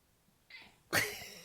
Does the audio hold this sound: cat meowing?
yes